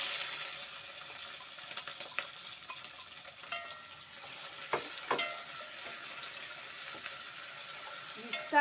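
Onions and capsicums frying in a pan, a steady soft sizzle with occasional scrapes and clinks of stirring, fairly quiet and close.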